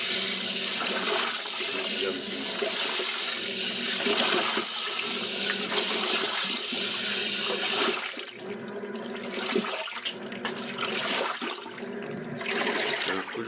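Water running steadily and fairly loud from a tap. It keeps on without a break, thins and changes slightly partway through, then carries on.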